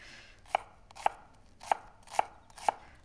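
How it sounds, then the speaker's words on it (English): A knife chops shallots on a cutting board in five crisp, evenly spaced thuds, close and clear with nothing else heard. "So just about a tablespoon of chopped shallots."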